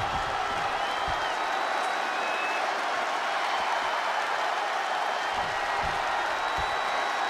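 Crowd noise from a WWE 2K24 wrestling match in the video game, a broad steady roar of cheering and clapping that stays at a constant moderate level throughout.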